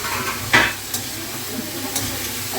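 Potatoes and greens being stirred together in a hot pan for aloo saag, a soft scraping stir with a low sizzle beneath and a few brief louder spoon strokes against the pan.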